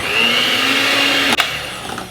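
An electric mixer whirs steadily through almond powder filling for a galette, giving a loud, close motor drone that cuts out abruptly with a brief clatter, then a few small knocks follow.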